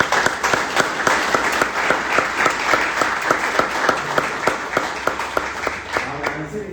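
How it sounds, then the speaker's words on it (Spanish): A church congregation applauds in unison, sharp rhythmic claps landing on a steady beat, loud and close, with a rumble of crowd noise beneath and voices rising as the clapping fades at the end. "Démosle un fuerte aplauso a nuestro Dios."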